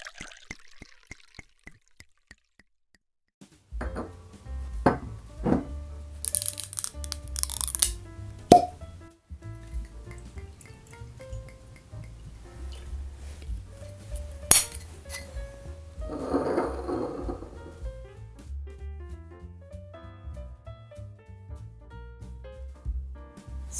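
A Glenmorangie Tokyo whisky bottle is opened and poured at home: near, crisp glass clinks and taps land irregularly across a quiet room, with a crinkling rustle of packaging partway through and no talk.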